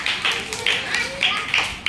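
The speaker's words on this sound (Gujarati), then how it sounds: "વેરી ગુડ તાળી પાડજો ભાઈ તમારી માટે" Children clapping together in a classroom, several short bursts of claps in an uneven rhythm, close and moderately loud.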